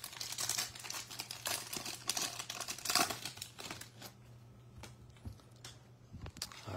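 A sports trading card pack wrapper is torn open and crumpled, a close run of sharp crinkling rips in quick bursts that thin into quieter rustles toward the end.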